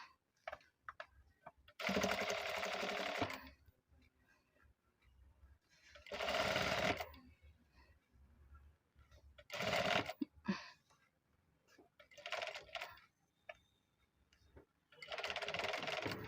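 A sewing machine stitches thread piping onto a blouse in five loud, close bursts of rapid whirring, separated by quiet pauses with faint handling sounds.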